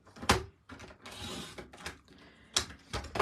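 A paper trimmer slicing a sheet of paper to 9.5 inches: a few short, close mechanical clicks and scraping slides as the blade is drawn across, with no talking.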